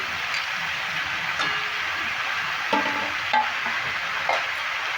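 Cut eggplant pieces are tipped into a pan of cooking vegetables, giving a soft, steady sizzle with a few scattered knocks and clatters as the pieces land and are moved around.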